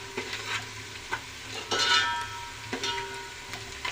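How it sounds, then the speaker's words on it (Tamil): Chicken gravy ingredients sautéing in a pan, a steady close sizzle with occasional stirring scrapes and spoon knocks, no voices. "நல்லா வதங்கட்டும்."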